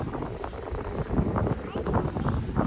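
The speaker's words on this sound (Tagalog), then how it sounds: "Lakas ng hangin." Strong wind buffets the microphone in steady low rumbling gusts, with faint voices underneath.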